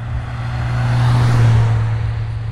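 A Genesis car pulls out at a cars and coffee meet in Fairfield, Ohio, its engine giving a loud, close, low drone that swells in the middle and then eases off as it moves away.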